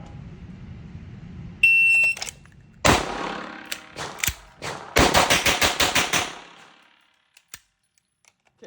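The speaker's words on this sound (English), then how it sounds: "Let's see if I can finish the next 9 rounds." A Sig M17 pistol fired rapidly on a range: sharp, loud cracks in a quick string, one early shot followed by a tight burst of evenly spaced reports, then silence with a faint trailing click.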